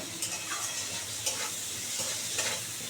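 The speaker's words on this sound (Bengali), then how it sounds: "আমরাটা একটু ভালো করে ভাজা ভাজা করে নিচ্ছি" Hog plums fry in a pan for a fish sour dish, a soft continuous sizzle broken by a few brief stirring scrapes, close and moderately quiet, with no talking.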